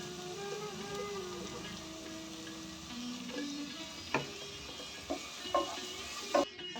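Ground spice paste with salt and turmeric frying in a pan gives a steady, fairly soft sizzle throughout, with a few light stirring clinks and scrapes toward the end. No one speaks.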